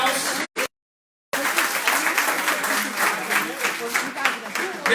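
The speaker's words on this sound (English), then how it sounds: "I just want want to give a big round of applause to all of our madrinas and padrinos in the house." A crowd at a parade breakfast ceremony applauds with dense, sustained clapping after a brief silence, mixed with cheering voices in a large room.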